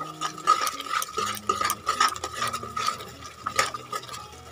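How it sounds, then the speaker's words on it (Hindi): Onions frying with turmeric, cumin, red chili powder and salt for a spicy Bengali mutton curry, heard as repeated spoon scrapes and clinks against the pan over a faint sizzle, close up and without speech. "तो अब हम इसको अच्छे से फ्राई कर लेंगे।"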